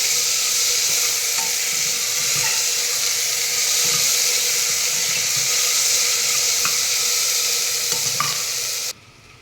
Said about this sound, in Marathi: बटाटा आणि टोमॅटो ॲड केल्यानंतर ना छान व्यवस्थित त्याला एक दोन ते तीन मिनिटं परतून घेऊया